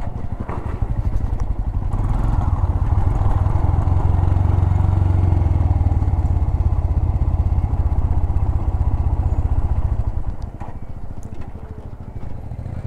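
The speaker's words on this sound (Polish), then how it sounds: "Tak wolno jedziemy, że mi motocykl gaśnie." A motorcycle rides slowly along a road in Nepal, its engine chugging at a low, steady, rhythmic putter close by, then easing off near the end as if about to stall.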